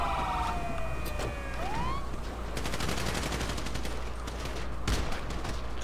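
Rapid bursts of gunfire crackle through a roleplay video game, with a police siren wailing early on and quick volleys that cluster in the second half. The shots sound loud and close, and there is no talk.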